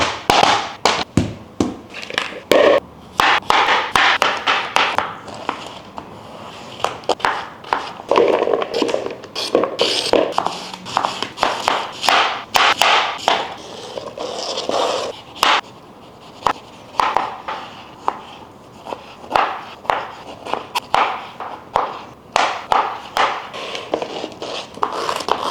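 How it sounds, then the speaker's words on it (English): A knife chops fruit and vegetables for green juice on a board, a long run of sharp, irregular tapping cuts, close and loud, with brief pauses between bursts. "I'm going to get all the ingredients for the green juice and the shots, and I'm going to slice them up"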